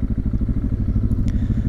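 A Harley motorcycle exhaust rumbles in a loud, fast, even low thump close by, steady for a couple of seconds with no talk over it.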